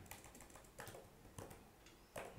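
Fingers type on a computer keyboard in short clusters of soft, close key clicks, faint and without voices.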